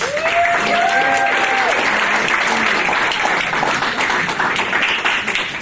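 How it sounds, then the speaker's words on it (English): A crowd at an employer recognition event in Santa Cruz applauds loudly and continuously, clapping filling the room, with a voice briefly heard over it at the start. "Give her a round of applause"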